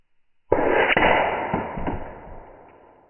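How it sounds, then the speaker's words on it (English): Air rifle slugs strike a metal target outdoors: a sudden loud burst of impact noise that rings and slowly fades, with a few quieter knocks following within the next second and a half. "it's very interesting to see what these rounds actually do when they meet metal"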